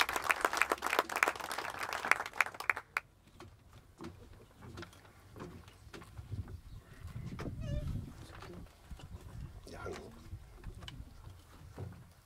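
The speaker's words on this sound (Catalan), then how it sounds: "un gran aplaudiment" Audience applause breaks out at a poetry reading, a dense round of clapping for about three seconds, then scattered claps and low murmuring fill the rest of the room noise.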